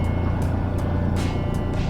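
A sailboat's engine runs steadily at sea on a windless passage between Favignana and Kephalonia, a constant low droning hum with faint water wash and occasional soft hiss, close and unbroken throughout.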